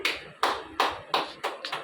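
Six quick, evenly spaced hand claps from a man at a home birthday celebration, sharp and close, with no talking over them.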